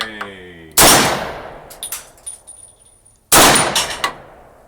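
Two sharp, loud pistol shots from a 1952 Polish Tokarev PW wz.33 firing 7.63 Mauser rounds outdoors, each a sudden crack with a ringing decay, the second about two and a half seconds after the first.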